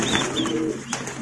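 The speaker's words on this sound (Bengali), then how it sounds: "এখানেও আছে অনেকগুলি কবুতর" Racing pigeons kept in cages at a breeder's farm give a short, close, low cooing call lasting about a second, with soft ambient noise around it.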